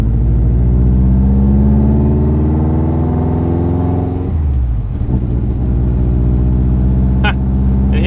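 An AWD Miata with a Subaru cluster drives along, its engine a loud steady rumble with rising harmonic tones early on, then shifting to a rougher, lower drone with a few faint clicks and rattles from the cabin.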